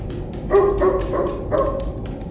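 A puppy that has just woken up gives a few short, high yips and barks in a quick cluster, fairly close and clear against a steady indoor hum, with no talk.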